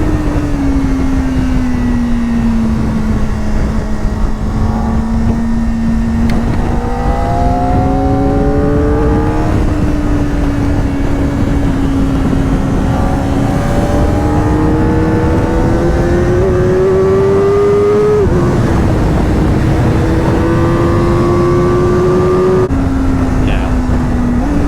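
A Kawasaki Ninja ZX-4RR motorcycle revs out hard while being ridden, its high engine note climbing through the gears with brief dips at shifts, loud and continuous over wind noise.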